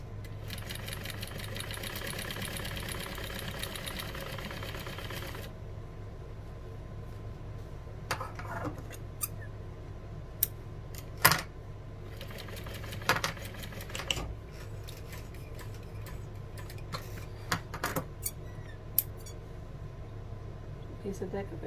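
A sewing machine runs baste stitches along a Nathalie bag from Shamballa Bags, a steady close mechanical whirr at first, then quieter stretches broken by sharp clicks and short bursts of stitching.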